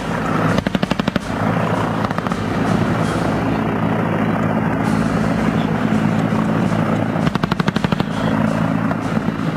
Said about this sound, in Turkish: taktik, keşif helikopteri T-129'un prototipi P-6 bir kez daha havalandı